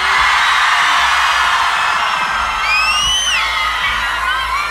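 A live concert crowd at Pepsi On Stage in 2009 roars and shouts together, loud and continuous, with scattered whoops and whistles rising above the mass of voices.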